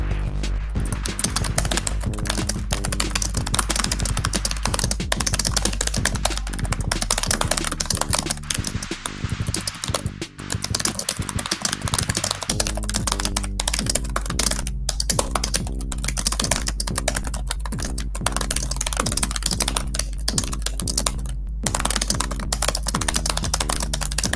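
Rapid, continuous computer keyboard typing during a Nitro Type online typing race, aiming for about 120 words per minute, with dense steady keystrokes filling the whole stretch over a background music bed.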